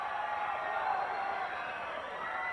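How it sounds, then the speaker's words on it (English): A wrestling crowd cheers in a broad, steady roar of many voices, loud and continuous throughout the brief moment. "you can tell the crowd is ecstatic"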